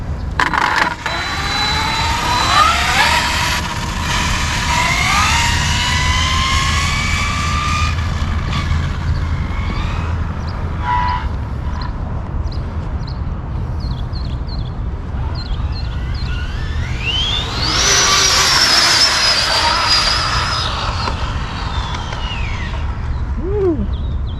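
An Arrma Infraction RC car on a high-speed pinion makes a speed run, its motor whining up and down as it passes, rising sharply near the end.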